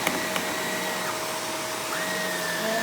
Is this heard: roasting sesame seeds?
no